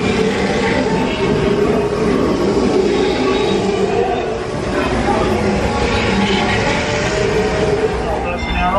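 A Disneyland railroad train rolls into Main Street Station, a loud, continuous rumble and clatter of wheels on track with faint squeals, recorded from on board amid crowd noise.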